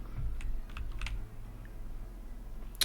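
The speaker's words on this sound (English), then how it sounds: "to keep the keyboard noise out of the recordings" Keystrokes on a computer keyboard during a Linux livestream, a few scattered clicks clustered early and one sharp tap near the end, over a steady low background hum.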